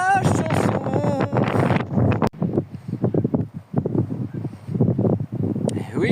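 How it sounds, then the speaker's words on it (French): Wind gusting by the ocean along the Camino de Santiago in Spain, a steady rough rumble and buffeting on the microphone beneath someone speaking almost throughout. "Il y a du vent."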